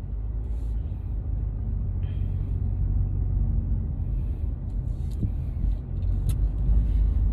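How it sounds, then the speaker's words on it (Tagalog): Steady low rumble of car traffic heard from inside a moving vehicle, a constant road and engine drone with faint jingling and light knocks on top and no talking. "Medyo traffic-traffic na ng konti."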